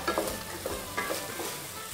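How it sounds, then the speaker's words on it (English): Onions sizzle and crackle steadily in hot oil over high heat, with a few soft scraping stirs close by. "Watch for the sizzle."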